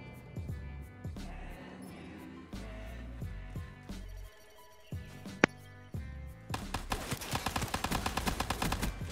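MR6 pistol fire in Black Ops 3, sharp single shots spaced irregularly, then a rapid run of shots near the end, all fairly close within game audio.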